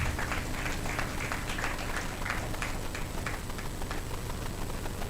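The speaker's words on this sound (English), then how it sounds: "A round of applause, please, for them." A crowd applauding steadily, a dense wash of clapping hands that holds at an even level from start to finish.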